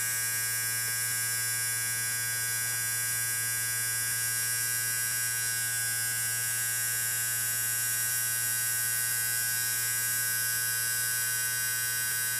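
An electric motor spins freely at about 7,000 RPM with no charging load, giving off a steady, unbroken whine and buzz with a strong low hum throughout, unchanging in loudness.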